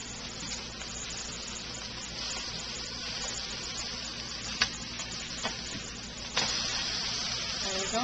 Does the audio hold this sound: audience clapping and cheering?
no